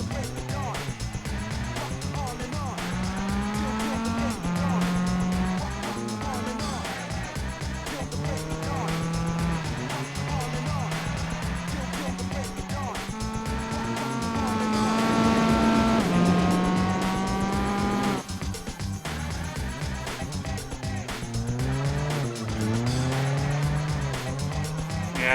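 A race car engine in the Gran Turismo 4 racing game revs hard and loud, its whine climbing and dropping through gear changes, with brief tire squeal over a steady, continuous drive.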